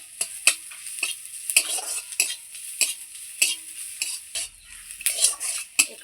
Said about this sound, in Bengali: কালো জিরে। এটাও আমি ভেজে নেব